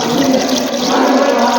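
Loud, close rush of water poured into a container to dissolve surf detergent powder, a continuous splashing gush with no pauses.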